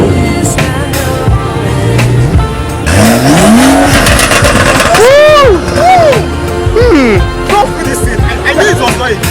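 At a car meet in Port Harcourt, a car engine revs repeatedly, rising and falling sweeps over a loud, crowded background with people talking throughout.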